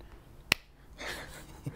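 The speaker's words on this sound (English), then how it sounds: "We're recording, yeah? Yeah, clap." A single sharp hand clap marks the start of a recording on a set, then only faint room noise and a soft knock follow.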